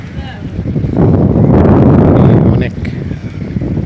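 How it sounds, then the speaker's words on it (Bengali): Cold wind blows along the seashore at Jeddah, its low roar buffeting the microphone and swelling loudly for about a second and a half in the middle, with someone speaking briefly. "ঠান্ডা বাতাস"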